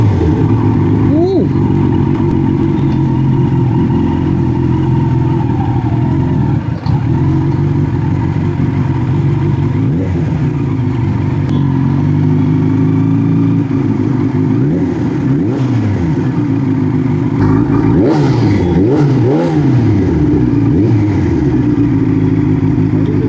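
On a first ride, a superbike engine revs and drops repeatedly, its pitch swelling and falling over a steady running drone, while people talk over it.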